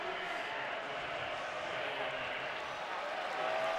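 A stadium crowd at a USA versus Senegal soccer match cheers and applauds Mane as he leaves the game, a steady, dense roar of many voices and clapping that holds without a break.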